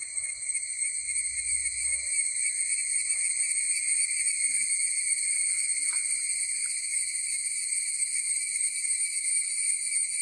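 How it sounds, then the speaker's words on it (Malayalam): A steady, piercing drone of cicadas in garden trees, including a cashew tree, fills the air without pause, high and constant, with faint rustles beneath. "അതിലൊക്കെ നിറയെ ചീവീടാണ്"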